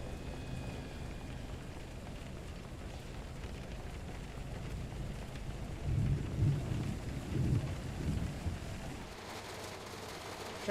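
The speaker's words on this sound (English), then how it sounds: "Run! It's raining." Steady, faint rain patters in the Train Sim World 5 railway game, with a low thunder rumble swelling through the middle before easing off.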